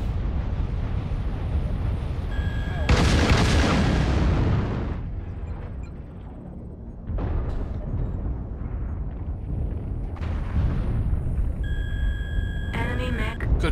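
Mech weapons in MechWarrior Online, including missiles, lasers and autocannons, go off in several loud, harsh bursts spaced a few seconds apart, while people talk over radio chatter.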